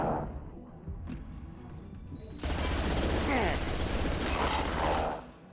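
Sustained automatic fire from the bullet hose gun in Mass Effect, played as an Infiltrator on Insanity. It starts abruptly partway through as a loud, dense, continuous rattle after a quieter stretch of ambient game noise.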